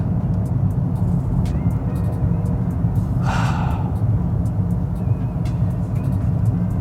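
Nissan V6 six-cylinder engine running at a steady idle, a dense low rumble throughout, with a brief breathy hiss in the middle and light ticking above.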